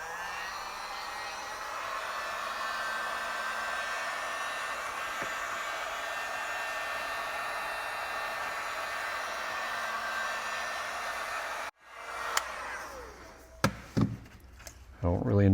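A heat gun warming a CME X-Key 25 keyboard casing runs as a steady, close blowing roar for about twelve seconds, then cuts off, followed by a few sharp clicks and knocks.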